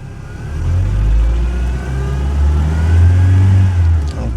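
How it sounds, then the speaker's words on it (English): A Ford Ranger pickup's engine revs under throttle, a loud, close, low rumble that swells, holds and rises again across a few seconds before easing off. "Let me give it some gas and see if the oil pressure is going to go up."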